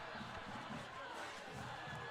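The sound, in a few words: football crowd cheering after a fumble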